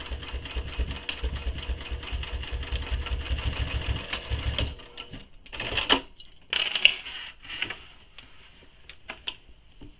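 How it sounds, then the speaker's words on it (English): A sewing machine runs in a fast, steady stitching rhythm while basting a sling bag in place, then stops abruptly partway through, followed by a few scattered clicks and handling sounds. "we're going to baste these in place using two lines of stitching"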